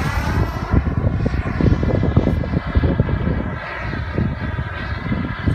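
HSDJETS Super Viper RC jet turbine flying overhead, a steady loud roaring whine with a broad rushing rumble that holds throughout, swelling and easing slightly as the model passes.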